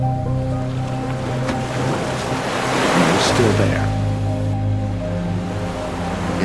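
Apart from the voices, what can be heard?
ocean waves on the rugged Oregon coast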